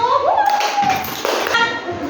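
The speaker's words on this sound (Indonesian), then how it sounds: "Ya, tepuk tangan untuk kelompok 1." A primary-school class claps for a student group after a lesson, short bursts of hand clapping under children's voices and a sustained tone.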